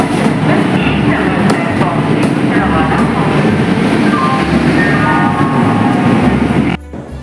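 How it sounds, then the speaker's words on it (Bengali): A Shatabdi Express train rolls into a station platform on the Howrah–Puri route, its heavy rumble and rhythmic wheel clatter loud and close throughout, with faint voices from the platform in the background. "শতাব্দী এক্সপ্রেস ঢুকে গেছে প্ল্যাটফর্মে।"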